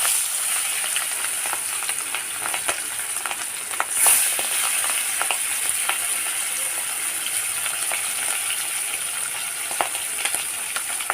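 Fish pieces fry in hot oil in a wok, a steady bright sizzle with scattered crackles and pops running continuously, no talk.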